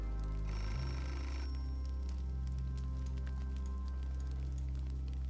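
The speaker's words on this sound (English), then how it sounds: "And now the phone's ringing, so I have to come down and answer that." Telephone ringing in the video game Beholder, a steady electronic ring over low game ambience and a persistent background hum.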